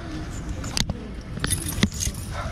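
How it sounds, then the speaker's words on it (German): A bunch of keys jangles close by in a bicycle workshop, bright metallic clinks in quick irregular bursts over a low background hum. "Oh, das ist mein Schlüssel."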